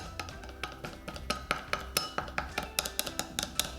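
Repeated light clinks and taps of a utensil stirring soy, oyster and hoisin sauces with white pepper in a small bowl, a steady brisk rhythm of close, moderately quiet strikes against the dish.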